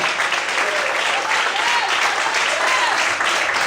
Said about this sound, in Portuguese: Você pode aplaudir ao Senhor bem forte.